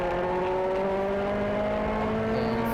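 Race car at the Autobahn Country Club South Track rolling back on the throttle out of a corner, a steady engine drone rising gradually in pitch, heard close and continuous from onboard without any talking.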